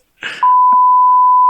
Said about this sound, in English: You could just beep it out.